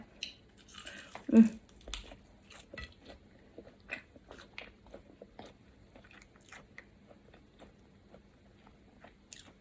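Someone eats som tam with fried chicken and fried pork belly, producing close, quiet bites and crunchy chewing in an irregular rhythm, with one sharper crunch early on and no talking.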